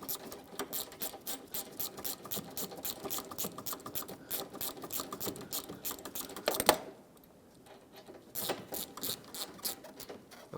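A ratchet with a 5mm socket turns a radiator stud on a Ford Focus, rapid close clicking in steady strokes, pausing briefly before the clicking resumes.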